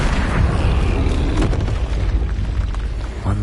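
Flipendo spell striking an enemy in the video game Hogwarts Legacy, a loud dense burst of booming magical impact that fills the moment and then rumbles on, with a short sharp hit near the end.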